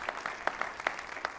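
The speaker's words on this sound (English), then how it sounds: "I also want to give a big round of applause to Brittany Main" Audience applause at a town hall candidates forum in Scott County, Arkansas, a thin scattering of claps with a few sharper hits over a steady patter, fairly quiet and brief.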